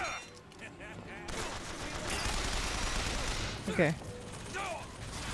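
Chaotic gunfire in Bioshock Infinite, a burst of rapid shots and mechanical clatter that swells in the middle, with a brief spoken word and other game sounds over it.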